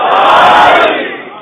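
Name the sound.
crowd chanting a religious slogan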